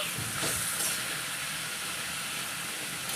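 Liver masala fries in a pan with a steady, loud hiss of sizzling oil that holds evenly from start to finish, close up, with no talking.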